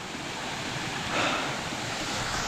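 Babarakanda waterfall in Sri Lanka, low on water in the dry season, gives a steady broadband rush of falling water, dense and continuous, with a little wind buffeting the microphone and no voices.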